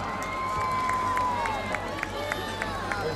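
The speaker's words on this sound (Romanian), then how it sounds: "Haideți să-l aplaudăm pe Luca!" A crowd at an outdoor Christmas tree lighting applauds and cheers for a child named Luca, with a rhythmic clap emerging under a sustained murmur, whistles and a tonal sweep.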